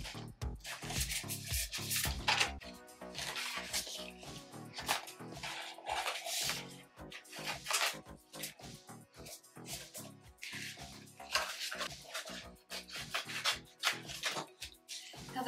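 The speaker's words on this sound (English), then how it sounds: "I've got my weeder tool, which is a Cricut tool, and I am going to weed around the excess of the letters, the excess vinyl." A Cricut weeder tool scratches and peels excess vinyl away from cut letters, giving close, quiet, irregular rubbing and scraping strokes with small ticks, no voices over it.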